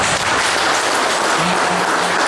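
An audience at a spiritual talk applauds, a dense, even wash of many hands clapping that fills the short moment at a steady loudness with no speech over it.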